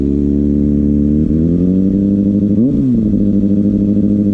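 A stock Kawasaki ZX6R motorcycle idles loud and close with a steady, throbbing burble, and its pitch dips briefly partway through.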